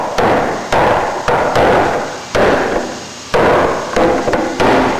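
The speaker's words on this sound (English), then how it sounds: "This is a pretty sharp chisel, so if you hit real hard, you'll puncture right through that one layer of skin." A sharp chisel is struck with a hammer while cutting through a thin skin layer on an aircraft rudder and aileron build, giving about eight evenly spaced, loud close blows.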